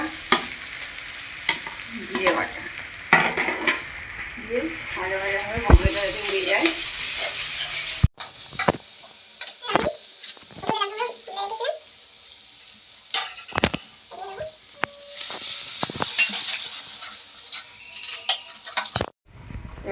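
Spice paste for mutton curry fries and sizzles in a pan while a spoon stirs and scrapes it in uneven bursts, with sharp clanks against the pan, close and loud.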